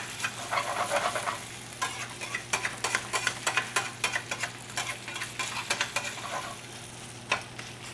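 Grated potato rosti sizzling in a frying pan while a spatula presses and scrapes it around, sharp irregular scraping clicks over a steady frying hiss, close up with no talking.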